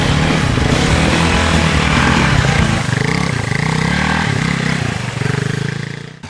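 Several Harley-Davidson MT350 military motorcycles race through deep mud, their engines droning loud and continuous with revving swells, clatter and scraping mixed in as two bikes nearly collide in the same rut.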